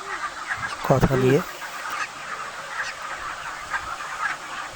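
Broiler chickens about 27 days old cluck on a poultry farm, a short burst near the start and softer fowl sounds in the background, with a person talking over them.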